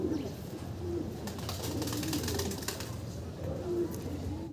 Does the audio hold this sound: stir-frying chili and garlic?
no